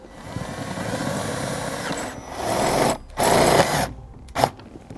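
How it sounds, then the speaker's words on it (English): A power driver runs self-tapping screws into a socket bracket on a 2012 Jeep, with several whirring bursts that rise in pitch, stop sharply and start again, ending in a short final spin. "secure it with our provided self-tapping screws"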